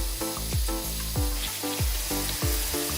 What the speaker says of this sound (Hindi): यहाँ पे आप देख पा रहे हो कि आपका पानी काफी उबल चुका है